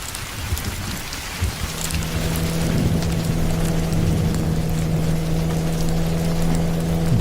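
Heavy rain falling at night in a Bengali horror cartoon, a steady dense roar that swells after a quieter start, with a low droning rumble underneath.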